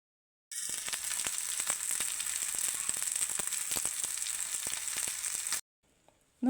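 Patrode pieces fry in coconut oil on a flat tawa, a steady close crackling sizzle that runs for about five seconds and then cuts off abruptly.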